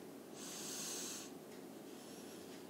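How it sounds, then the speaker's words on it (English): A single close, quiet sniff at a Cheeto, a brief breathy intake of air followed by softer breathing. "First, you sniff it."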